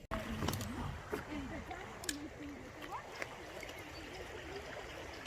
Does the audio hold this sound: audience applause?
no